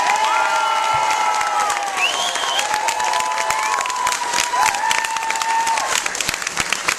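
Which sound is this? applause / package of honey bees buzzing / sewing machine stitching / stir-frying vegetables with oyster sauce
applause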